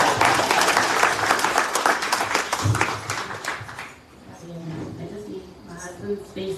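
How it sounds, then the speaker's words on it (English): Audience applause at a Chithrai Paravum Kavady temple festival gathering, a dense burst of clapping that stays loud for about four seconds, then thins out into a few scattered claps with voices and background murmur. "She's local, but you can give an applause as well"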